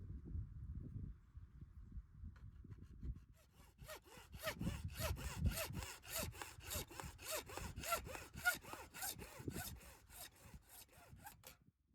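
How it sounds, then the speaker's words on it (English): A hacksaw cuts through plumbing pipes at a hand-pumped spring outdoors, starting with some handling noise before settling into a steady rhythmic back-and-forth rasp of strokes, close and moderately quiet. "I'll trim these pipes back with a hacksaw"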